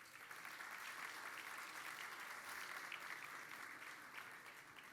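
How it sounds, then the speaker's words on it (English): Steady applause from a gala audience at a charity organization's 190th anniversary celebration, a dense continuous wash of many hands clapping throughout, moderately distant and even in level. "So give yourselves a round of applause."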